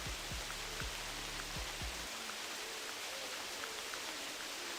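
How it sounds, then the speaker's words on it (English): Steady rain hisses down across the landscape in theHunter Classic, a soft, even wash of drops that continues throughout, with a few low thumps early on and no speech. "I can't hear anything with the rain"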